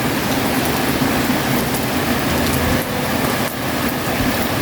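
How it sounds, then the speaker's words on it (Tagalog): Heavy rain pours steadily on a rainy day near a mountain view, a dense, loud, continuous hiss of falling water with no talking. "Palakas ng palakas ang ulan."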